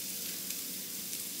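Peppers and onions sizzle in a pan over low heat, a steady close hiss of frying with two faint stirring touches, no talk.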